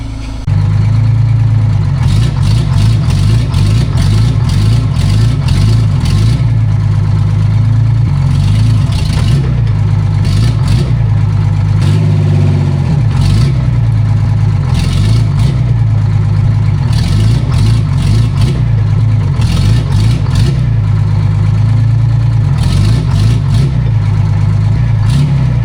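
A vintage cabover truck's engine runs loud and close as the truck creeps forward, a heavy, steady rumble with uneven surges and dips in the revs.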